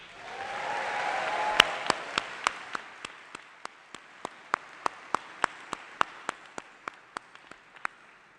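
A medical school commencement crowd applauds a graduate: a soft wash of clapping gives way to a single pair of hands clapping in a slow, even rhythm that continues alone.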